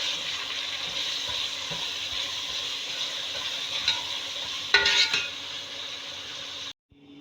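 Onions with salt fry in a pan for shahi korma, giving a steady close sizzle with occasional stirring scrapes and a brief louder clatter near the end before it cuts off.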